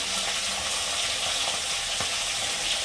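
Fish frying in hot oil in a home kitchen: a continuous loud, close hiss and crackle of sizzling with faint spatters and a light stir or scrape, with no voices.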